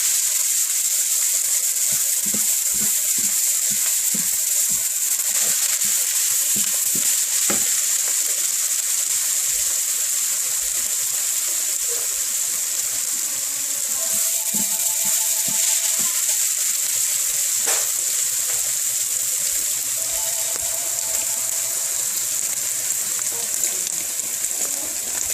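Onions frying in a pan for hibachi beef fried rice, a constant loud hissing sizzle over the whole stretch with a few faint clicks and brief tones in the background.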